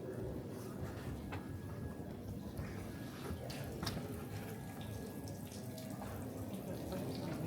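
Water drips and trickles from rock inside a cave in Alaska, a soft continuous wash with scattered faint drops, heard quietly and at low level throughout.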